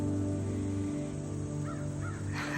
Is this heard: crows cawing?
yes